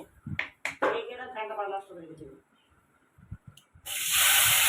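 Mustard oil poured into a hot wok breaks into a loud, steady hiss near the end, following a stretch of talking.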